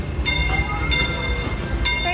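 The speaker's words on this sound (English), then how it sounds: "There's the train!" A Disneyland train rolls past with a steady low rumble and three bright metallic clinks or squeals at intervals, fairly close, under a busy crowd background.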